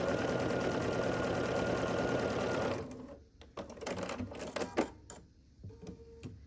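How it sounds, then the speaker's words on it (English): A sewing machine runs steadily for about three seconds, stitching a long seam on a star quilt block, then stops, leaving a few clicks and light handling noises. "And then we'll sew along this long side here"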